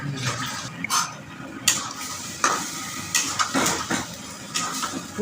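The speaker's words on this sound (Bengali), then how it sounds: "পুরটাকে কড়ায় শুকনো করে ফেলতে হবে" A spoon scraping and stirring peas kachuri filling as it dries in a hot kadai, repeated close scrapes and clinks over a steady low sizzle.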